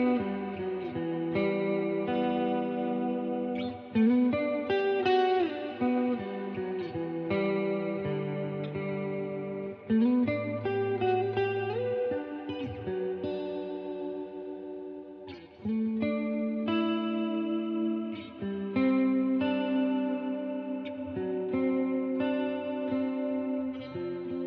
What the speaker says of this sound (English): I also switched out the reverb to fit a more ambient style and put just a hair of delay